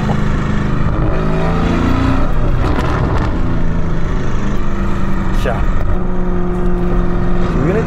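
A widebody Lamborghini Urus tuned to 780 hp with a loud exhaust system drones steadily while driving, its engine note rising and shifting through gear changes in a continuous, close, loud rumble with faint voices underneath.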